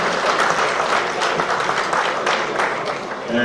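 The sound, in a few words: audience applause at award ceremony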